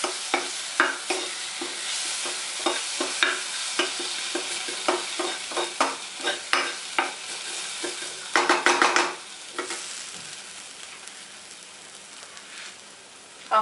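Poha, flattened rice, being stirred with tomato sauce in a pan: a steady run of soft scraping, clacking spoon strokes against the metal with faint sizzling underneath, close and fairly loud, with no talking.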